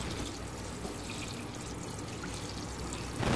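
Water from a tap pours steadily into a basin of chicken wings with a little salt, making a soft continuous splashing rush that swells briefly at the end.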